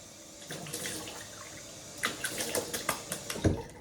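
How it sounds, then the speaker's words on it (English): Tap water runs briefly while an object is rinsed under a faucet at a sink, with a soft splash early on and louder bursts of splashing and gurgling toward the end. "let's wash this off and get out of here"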